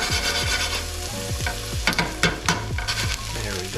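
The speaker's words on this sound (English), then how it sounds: "Start sauteing those mushrooms." Chicken of the woods mushrooms sauté in a pan, a steady sizzle broken by repeated scraping stirs and clicks of the utensil, close and fairly loud with no one talking.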